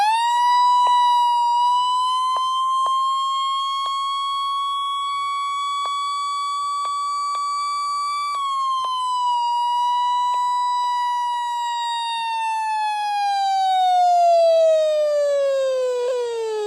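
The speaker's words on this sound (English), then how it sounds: "Very, very, very loud alert tone." A weather radio sounds its alert test tone, a very loud, steady electronic siren that holds one pitch and then slowly falls. It is heard alone, with no voices over it.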